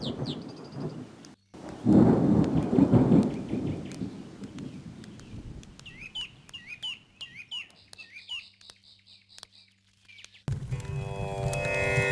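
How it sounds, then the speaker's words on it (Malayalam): Thunder rumbles heavily at first, then birds chirp repeatedly while a soft hiss of rain continues in the background. "മഴ പെയ്യുന്ന തോന്നുന്നത്"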